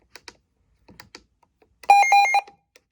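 Scattered soft clicks, then a loud, piercing weather radio alert tone pulsing in quick beeps for about half a second before stopping.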